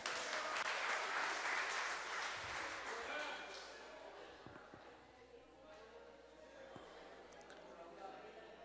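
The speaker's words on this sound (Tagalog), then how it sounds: "Palakpak tayo dyan." Audience applause at a lecture, a loud burst of clapping at the start that thins out and fades over several seconds.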